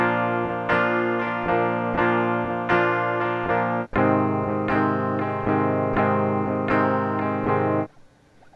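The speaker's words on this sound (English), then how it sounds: "if we play it, you'll actually hear the guitarist switch chords" Distorted electric guitar chords ring out in a rhythmic pattern, with a brief gap at the chord change midway, then cut off near the end.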